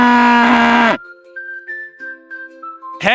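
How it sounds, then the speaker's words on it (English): A children's toy cow gives one loud, buzzy electronic moo, then a thin, beeping toy melody plays until a sudden loud burst at the end. "look, it's a cow. Let's listen to the sound it makes"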